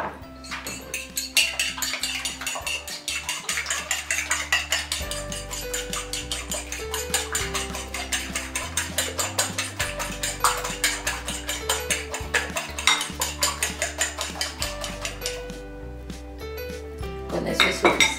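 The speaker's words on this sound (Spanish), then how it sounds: "El siguiente paso es batir estos huevos." Eggs beaten in a bowl for breaded shrimp, a fast, steady run of clinking taps as a utensil strikes the bowl, close and continuous with no talk.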